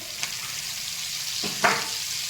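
Onions fry steadily in a pan for a Bengali fish curry, a constant close sizzle broken by a couple of brief scrapes of stirring.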